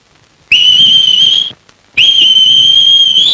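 Whistling that imitates a koel's call, in a comedy film scene: two loud, sustained high notes, each about a second long, separated by a brief pause.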